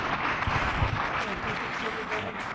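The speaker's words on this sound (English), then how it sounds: "Can we have a round of applause for them, please?" An audience at a symposium gives panelists a short round of applause, a soft, continuous patter of clapping heard from some distance in a quiet hall.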